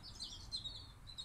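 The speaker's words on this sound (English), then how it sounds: "with the birds that we're hearing now as the crush of traffic is silenced" Faint, high bird chirps flicker over a quiet outdoor background with a low, steady rumble, brief tweets scattered through the moment.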